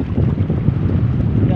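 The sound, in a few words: strong northeast monsoon wind at sea on a boat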